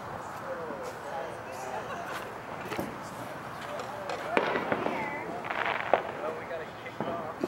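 Fourth of July fireworks burst and crackle at a distance in a series of irregular pops and booms, with crowd chatter and voices running underneath throughout.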